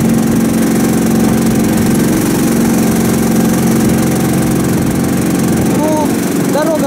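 A Karakat all-terrain vehicle engine strains loudly in third gear on a muddy road, a constant close, droning hum with a rough mechanical rattle, and a voice speaks over it near the end.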